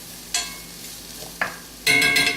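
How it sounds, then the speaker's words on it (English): Leeks caramelizing in a hot pot are stirred with a spoon: two quick, close scraping sizzles, then a longer, louder stir with crackling frying underneath, with no talking. "Get that a quick stir in here"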